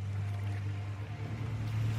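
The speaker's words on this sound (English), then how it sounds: "Oh, that boat is hella loud." A boat engine in the video game Call of Duty: Modern Warfare II drones steadily at a low pitch, loud and constant, with a wash of water and wind noise around it.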